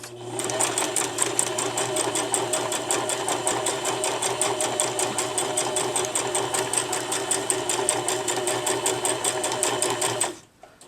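A sewing machine stitches the ear of a sock monkey made from a sock in one continuous run of fast, even needle strokes, loud and close, then stops abruptly near the end.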